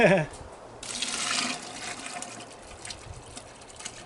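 Sugary syrup pours into elderberries in a large stock pot and gets mixed, a burst of splashing liquid followed by softer wet sloshing and stirring, close by and fading toward the end.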